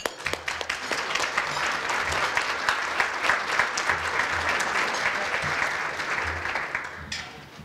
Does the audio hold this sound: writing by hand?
no